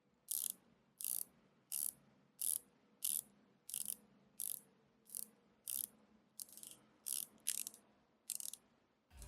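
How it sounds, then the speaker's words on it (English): Rotating bezel on a Yema Marine Nationale GMT watch, giving a steady series of about a dozen crisp, evenly spaced ratcheting clicks heard up close with no talking. "Half the rotation has lighter and less defined clicks, and the other half has firmer clicks with more definition."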